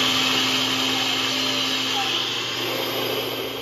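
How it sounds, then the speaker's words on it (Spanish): A kitchen blender running at high speed, grinding flaxseed, oats, peanuts and other vegan protein ingredients into powder, a loud, steady close-up whir that continues unbroken throughout. "vamos a agregarla en nuestra licuadora para, molerla"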